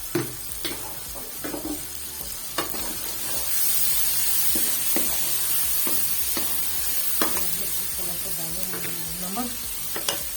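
Sarson ka saag with ground green chilli sizzles and fries in a pan, with intermittent stirring scrapes and bursts of hissing spread over the whole stretch, fairly close and steady, with no voice.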